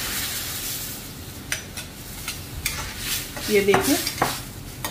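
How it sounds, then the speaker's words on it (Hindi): Sizzling and stirring as cooked dal goes into a hot tadka tempering in a pan, soft crackle with spoon clinks and scrapes, while someone speaks briefly. "बस ये हमारी दाल का तड़का हो गया। अब इसमें हम अपनी दाल को डाल देंगे।"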